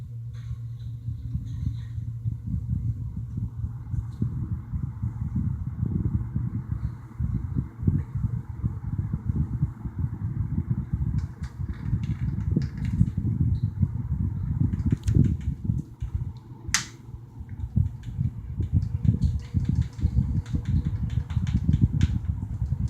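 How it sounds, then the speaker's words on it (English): A GE F11W7 box fan, electrically reversible and well oiled, runs on low speed with a steady low hum and rhythmic throbbing whir, close and continuous. "This particular fan is one of those that it takes it a little while to get up to speed, even though it's been well oiled."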